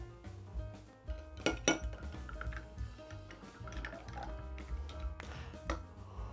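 A metal spoon clinks and scrapes against a glass while a Colt 45 cocktail is stirred, with irregular close ringing taps and a couple of sharper knocks, no talking.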